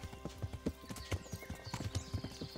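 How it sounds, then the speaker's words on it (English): Horse hooves clip-clopping in the medieval video game Kingdom Come: Deliverance, a quick run of close, distinct hoof strikes on a path, fairly faint. "It's a horse."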